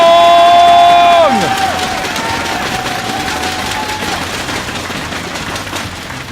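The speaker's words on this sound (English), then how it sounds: "make as much noise as you've ever made. Give it up for Polt" A loud crowd at a StarCraft 2 esports match roars and cheers continuously, the noise swelling after a tone fades out at the start.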